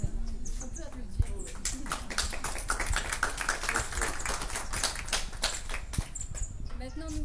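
Audience applause breaks out at an outdoor heritage walk about exile, a dense steady patter of many hands clapping at moderate distance that holds for several seconds, with no pause.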